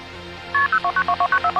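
A phone number programmed into a home telephone being dialed to call an ambulance: a quick run of about nine sharp touch-tone beeps, clear and close, with no talking.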